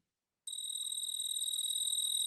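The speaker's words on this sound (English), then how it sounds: "what he's doing is taking his wings and rubbing them back and forth really quickly" A single tree cricket rubs its wings back and forth very quickly, making a sudden continuous high trill that starts abruptly and holds steady at close range, alone with no talking.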